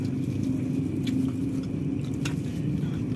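Rain falling outside a closed window makes a steady, dense patter with a low rumble that continues evenly throughout, with no voices.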